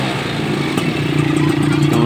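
A Yamaha F1ZR two-stroke motorcycle from the 1990s idles and revs steadily up close, its engine note building slightly louder over two seconds with a light mechanical clatter.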